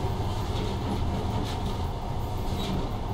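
Monorail train running through tunnels of the secret Metro 2 line in the video game Metro: Last Light, a steady loud rumbling roar with faint rattling clatter throughout and no talking.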